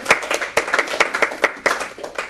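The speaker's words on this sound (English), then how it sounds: "We got to give ourselves a round of applause." A small group in a meeting room gives itself a round of applause, with loose, distinct hand claps popping close by at an uneven rhythm.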